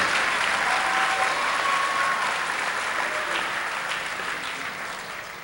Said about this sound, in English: think the applause is because you know that I'm last on the agenda